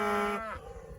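A single cow moos in a farm pasture, a loud, close, drawn-out low call that bends downward and fades within a second.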